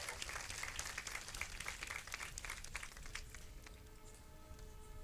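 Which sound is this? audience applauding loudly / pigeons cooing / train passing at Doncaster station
audience applauding loudly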